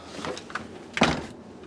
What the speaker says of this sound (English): Door is closed and locked.